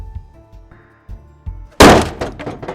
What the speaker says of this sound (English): maybe a chair, crashing to the floor made me jump